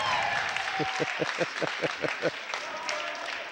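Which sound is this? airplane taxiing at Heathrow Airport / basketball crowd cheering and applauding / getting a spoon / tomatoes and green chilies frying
basketball crowd cheering and applauding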